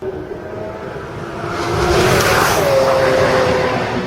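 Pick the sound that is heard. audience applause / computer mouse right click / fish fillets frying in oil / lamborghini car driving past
lamborghini car driving past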